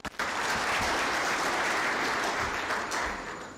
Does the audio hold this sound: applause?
yes